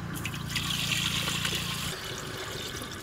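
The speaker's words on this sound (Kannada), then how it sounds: "ಗಂಜಿಗೆ ಎಷ್ಟು ಬೇಕೋ ಅಷ್ಟು ನೀರು ಹಾಕೊಳ್ಳೋಣ." Water is poured into a pot for rice gruel over a wood-fired village stove, a close, steady splashing trickle that stops abruptly near the end and leaves quiet room noise.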